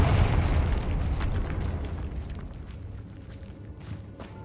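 In Hogwarts Legacy, the Confringo spell sets off a loud, close explosion whose booming rumble rolls out and slowly fades, with scattered crackles and small pops trailing behind.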